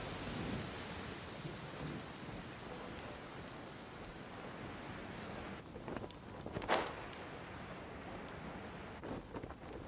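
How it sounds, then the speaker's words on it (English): Steady rain hiss with a rumble of thunder from the Genshin Impact game world, continuous across the whole stretch, with a sharper crackling thunder burst near the middle before settling back into the rainfall. "Ah, it's raining. Bummer."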